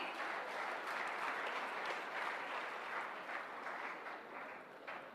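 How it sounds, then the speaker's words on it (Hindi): An audience at an annual defence academy function gives a steady, dense round of applause for students, a continuous wash of clapping at moderate distance that stays even throughout and eases slightly near the end. "जोरदार तालियां हो जाए इन सभी के लिए।"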